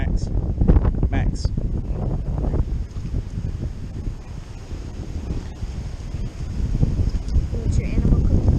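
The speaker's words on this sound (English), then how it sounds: "Woo-wee, that wind is still crazy this morning." Strong morning wind roaring across the microphone outdoors, a heavy steady rumble with gusts rising and falling throughout.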